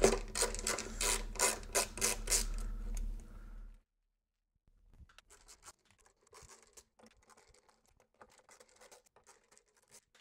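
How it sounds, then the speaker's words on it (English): A ratcheting screwdriver backs screws out of a KLH Model Five speaker, giving quick, rhythmic clicking bursts up close, then a pause and sparser, quieter ticks and scrapes. "I prefer to use a ratcheting screwdriver. So I'm just going to go around and remove all these screws."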